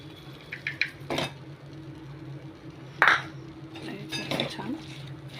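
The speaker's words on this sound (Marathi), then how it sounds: "1 वाटी गूळ घालणार आहे आपण याच्यामध्ये" Jaggery added to a pot and stirred, with clinks of a spoon against metal, scraping, and a sharp knock midway, while someone talks over the kitchen sounds.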